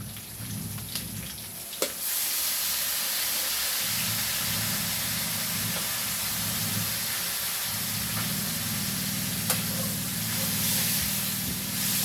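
Soy sauce hitting chicken intestines frying in a hot pan for adobo: a sharp burst of loud, steady sizzling hiss that continues evenly, with a faint clink near the start, no talk.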